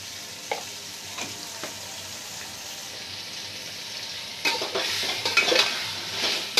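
Marinated chicken stirred with chili powder in a pan for chicken masala palau, a steady sizzle of frying beneath scraping spoon strokes that grow busier and louder toward the end, with no talking.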